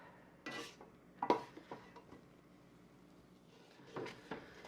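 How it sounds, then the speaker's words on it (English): Boiling habanero apricot jelly stirred in a pot: a spoon scrapes and knocks against the metal in a few scattered, faint clinks and rubs, with quiet gaps between strokes. "we're going to stir constantly for 2 minutes once it gets to that stage"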